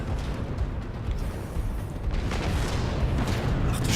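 Deep rumbling explosion blasts in Halo 2 Anniversary, a continuous low booming roar that swells steadily and stays loud without any talk over it.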